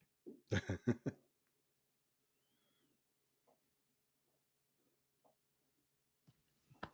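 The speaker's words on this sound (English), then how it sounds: "I got a cough." A short burst of several harsh coughs close by, followed by near silence with a few faint soft clicks and a rustle at the end.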